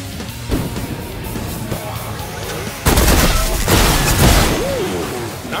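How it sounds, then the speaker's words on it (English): A burst of loud crashing booms and rattling blasts erupts in the sci-fi shooter game Space Punks, a dense explosive roar that swells abruptly midway and stays heavy, amid ongoing gameplay effects. "Nice explosion!"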